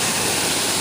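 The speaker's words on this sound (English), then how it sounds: "The stream of the water is coming toward me" Dense, unbroken roar of Sildubi Waterfall's stream of water near Malankona, loud and close for a brief moment with no voices.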